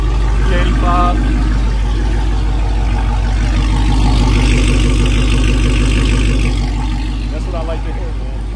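A 2nd gen Demon swap car with 1,000 horsepower idles close by with a heavy, throbbing low rumble that holds steady and fades slightly at the end, while people talk over it.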